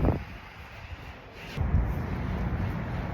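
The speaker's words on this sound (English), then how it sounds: "It's super windy." Strong winter wind on a snowy Toronto street, buffeting the microphone with low, rumbling gusts: a short blast at the start, a quieter lull, then sustained blustery roaring through the rest.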